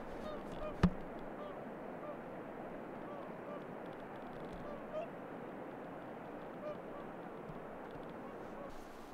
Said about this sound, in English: whooper swans.